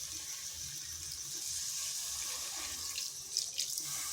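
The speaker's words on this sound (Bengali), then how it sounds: "এরপর এখানে দিয়ে দিচ্ছি জল।" Water poured into a cooking pan while preparing a kohlrabi curry: a steady, soft hissing stream heard close and quiet, ending in a few brief splashes.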